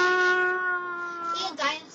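A human voice imitates a cat's meow, drawing out one long tonal mew followed by a shorter second mew, loud and close, with no other sounds.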